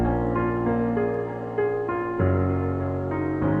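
Piano sample pitched down two semitones for a smooth trap soul beat, a sustained chordal passage with shifting chords, played alone at steady moderate loudness.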